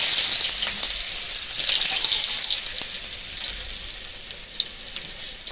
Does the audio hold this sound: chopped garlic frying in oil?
yes